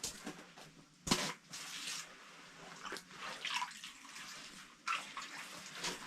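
Water splashing and sloshing as a large splake is rinsed off in a hole, with uneven bursts of close, moderately loud splashes and a sharp slap near the start.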